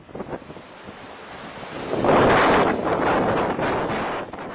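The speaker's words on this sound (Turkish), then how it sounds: "Ne sert rüzgara, ne de dev dalgalara aldıran gençler" Storm surf and strong wind at sea off Ireland, a steady roar of crashing waves with heavy wind buffeting the microphone, swelling loudest midway and staying rough to the end.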